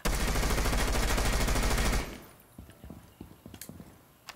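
Rapid automatic gunfire from a held trigger in a video game shooter, a loud continuous burst for about two seconds that cuts off, followed by quieter scattered clicks and thuds.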